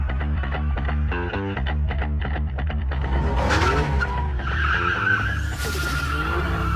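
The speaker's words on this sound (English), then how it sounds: "she yanked the handbrake," A car drifts after the handbrake is yanked, its tires skidding and squealing loudly over a steady engine roar, with a rising screech in the second half as it slides past oncoming traffic.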